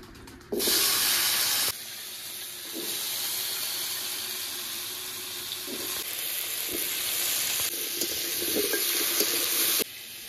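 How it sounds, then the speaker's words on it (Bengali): Pumpkin and potato pieces dropped into hot oil, a loud sudden sizzle that hisses steadily, dips and swells, then cuts off near the end. "এবার ওই তেলে আমি মিষ্টি কুমড়া আলুটা ভেজে নেব"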